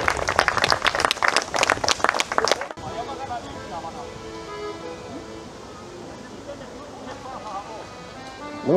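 Audience applause at a traditional heritage festival, a burst of dense clapping for about three seconds that cuts off abruptly, then gives way to quieter outdoor ambience with distant voices.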